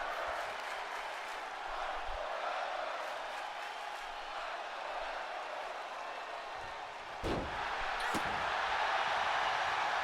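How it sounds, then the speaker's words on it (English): A wrestling crowd in Virginia roars and applauds continuously, a dense wash of cheering and clapping that holds steady throughout, with a couple of sharp impact bangs in the ring late on. "The crowd here in Virginia is going absolutely crazy."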